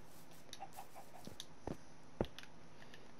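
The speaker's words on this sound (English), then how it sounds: "chicken" A Minecraft chicken clucks in a few short, soft bursts over quiet game ambience, with faint clicks in between.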